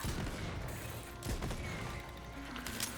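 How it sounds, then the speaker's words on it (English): A Torgue shotgun fires repeatedly in the Borderlands video game, a dense, busy barrage of booming shots and mechanical clanks amid continuous game noise. "It's just a normal-ass shotgun."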